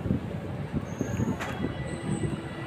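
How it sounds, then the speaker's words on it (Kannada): A DEMU passenger train running from Bengaluru Cantonment on the KSR Bengaluru to Kolar route gives a steady low rumble with rhythmic wheel clatter and faint high squeals, heard from on board without talk. "ಬೆಂಗಳೂರು ದಂಡುವಿಂದ ಟ್ರೈನ್ ಹೊರಟಿದೆ,"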